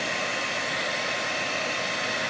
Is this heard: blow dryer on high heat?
yes